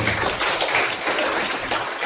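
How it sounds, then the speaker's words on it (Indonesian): Brief burst of audience applause at a youth organization congress and leadership inauguration in Sukabumi, a steady wash of clapping filling the short moment. "Tepuk tangan untuk kita semua."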